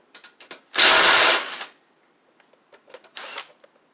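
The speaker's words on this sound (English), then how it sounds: "I'm gonna get these bolts off right here." A hand ratchet clicks rapidly while backing bolts off a Troy Bilt Pony riding mower, with short bursts of clicking before and after a longer loud whirring spin, close up.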